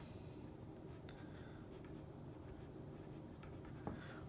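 Pen on paper writing out a word by hand, soft scratchy strokes heard faintly and close over a quiet room hum, with no talking.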